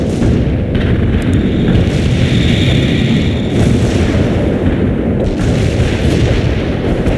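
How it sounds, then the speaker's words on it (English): Artillery barrage in a military video game, a continuous heavy rumble of booms and blasts rolling on without pause, loud and dense throughout with no talk. "Launching a barrage."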